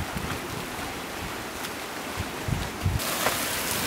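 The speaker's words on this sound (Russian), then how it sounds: "Маленький водопадик тут такой." A small outdoor waterfall splashes into a pool where people swim on a hot day. The rushing water makes a constant, fairly distant broadband wash with a few slightly louder surges, and no one speaks.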